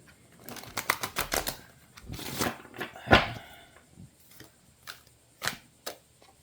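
A deck of cards is shuffled by hand, giving a quick rippling riffle of crisp flutters, a second short burst, a sharp snap, then a few soft scattered taps.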